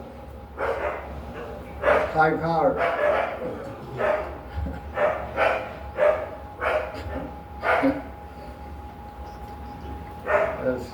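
A dog barks repeatedly at a steady rhythm, a run of sharp, fairly close barks spread across the stretch, with a person speaking briefly near the start.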